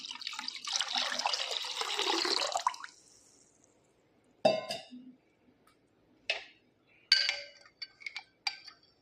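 Water is poured steadily into a vessel for homemade jeera (cumin) juice, a close hissing stream lasting a few seconds, followed by a series of short, sharp clinks and splashes.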